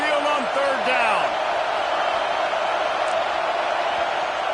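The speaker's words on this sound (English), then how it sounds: "The Tide crowd rolling noise down onto Saban Field on third down." Roaring stadium crowd at Saban Field in a college football video game, a steady dense wash of noise on third down with a few brief whoops and bounces early on.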